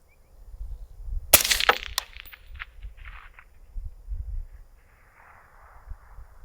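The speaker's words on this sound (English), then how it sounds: "Shooting with the Black Hills ammo." A single sharp shot from an MK12 Mod S rifle firing Black Hills ammunition outdoors, one loud crack followed by a brief rolling echo, then fainter ambient handling noise.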